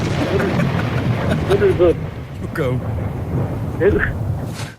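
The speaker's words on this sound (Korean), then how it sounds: "말씀하실 때 천둥 번개로 효과음을 넣었는데" Thunder effect laid into a Korean radio talk show broadcast, a rumbling roll running under continuous conversation between host and guest, with speech dominating throughout.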